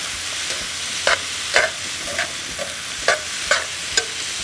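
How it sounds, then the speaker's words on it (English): Onions and mushrooms fry in a pan for a cheesesteak pizza topping, a steady close sizzle broken by about eight sharp stirring scrapes of a utensil spaced at uneven intervals. "Want to get these onions caramelized a little bit, bring out the sweetness."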